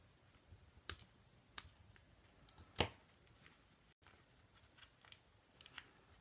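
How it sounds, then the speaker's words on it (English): Scissors trim ribbon for a handmade paper fan card, making a few sharp, quiet snips spaced irregularly, close up in a calm room with no speech. "I'm going to trim this little piece off because this piece of the ribbon is"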